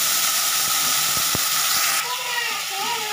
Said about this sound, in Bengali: এখানে দিয়ে দেবো আমরা সর্ষে ফোড়ন হিসাবে। দেখুন কতটা সুন্দর ফুটছে